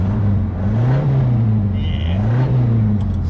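The engine of a Datsun mini box truck idles and revs up and down in a couple of smooth swells, close and steady with a faint high whine, and no talking.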